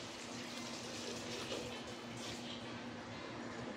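Water is poured for a bayan bread filling, giving a faint, steady gushing stream with a soft hum underneath and no talk.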